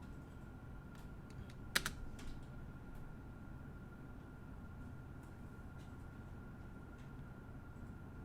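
Keys clatter softly on a computer keyboard at a quiet desk, with one sharper, louder keystroke like an enter press standing out early, then sparse light taps over a low background hiss.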